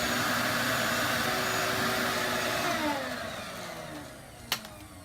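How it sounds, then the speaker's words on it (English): A vacuum cleaner pulls dirt from a car's interior carpet, a steady loud whine and rush that drops in pitch and fades after about three seconds, ending with a brief sharp knock. "just go ahead and vacuum as much dirt as I can get out of it before I start shampooing the carpet"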